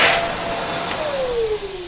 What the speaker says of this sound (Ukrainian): Для очищення кавомолки використовуємо такий пристрій, як пилосос.